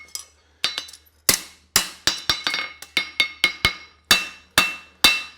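Steel horseshoe hammered at a forge, caulk and feather shoe work: a run of about fourteen sharp, ringing metallic blows in uneven clusters, each with a bright ringing tail, close and loud with no talk.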